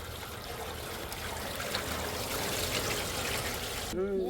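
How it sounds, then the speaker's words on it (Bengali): Water poured onto paddy rice set up for parboiling in a village kitchen, a continuous soft splashing trickle at low volume that ends abruptly, with a brief voice right at the close. "সেটা জল দিয়ে দেবো এবার"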